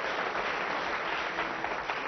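Applause in a comedy scene set in a psychiatrist's office, where a man claps as if he were a whole audience; dense, steady clapping fills the full two seconds at an even level with no talk.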